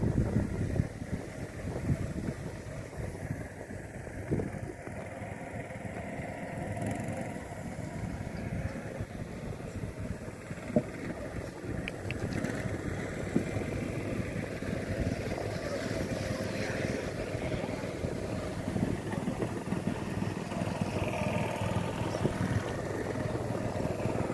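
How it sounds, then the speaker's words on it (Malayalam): Motor boats and speed boats pass on a lotus-filled lagoon, a steady broad engine drone and wash running throughout with wind buffeting the microphone. "നമ്മുടെ അപ്പുറത്തെ ഭാഗത്തുകൂടി മോട്ടോർ ബോട്ട്, സ്പീഡ് ബോട്ട്സ് ഒക്കെ പോകുന്നുണ്ട്"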